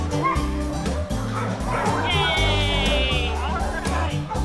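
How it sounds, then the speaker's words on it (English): Rescued dogs in a flood-zone animal shelter after Hurricane Harvey bark repeatedly in a loud, overlapping chorus, with yips and a whine mixed into the noisy kennel. "These are all dogs that have been rescued from the flood zone."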